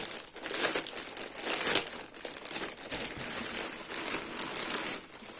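A plastic-wrapped DeFacto clothing parcel of children's socks is opened, with close, busy crinkling and rustling of packaging throughout and a few louder tearing crackles.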